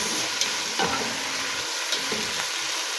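Shrimp dropped into a pot and stirred while cooking sinigang, with steady sizzling and a few soft scraping stirs and light clinks up close, no talking.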